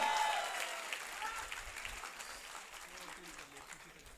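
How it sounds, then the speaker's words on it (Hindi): An audience applauds to welcome guest speaker Ashneer Grover at an entrepreneurship talk. Steady crowd clapping starts fairly strong and slowly fades over a few seconds, with faint voices mixed in. "Can we have a huge round of applause for him?"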